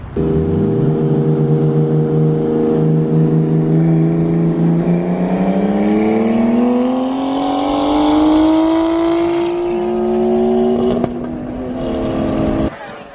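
A widebody Nissan Skyline GTS-T revs hard and accelerates up through the gears, its engine note climbing loud and close, easing briefly at a shift, then dropping away abruptly near the end.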